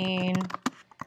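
Typing on a computer keyboard, entering text for a homecoming shirt design, heard as a short burst of several close keystrokes at the end of a fading tone.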